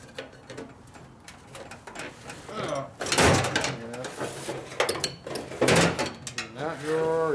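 Metal drawers of a tool chest in a motorcycle repair shop slide open and shut with several sharp clacks and rattles, mixed with a person talking close by.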